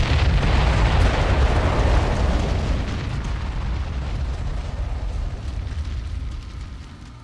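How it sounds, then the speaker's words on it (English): Artillery shells from a bombardment in the Ground Control strategy game explode in a dense, rumbling barrage, loud at first and then fading into a long roaring tail, with no talking. "Area targeted for bombardment."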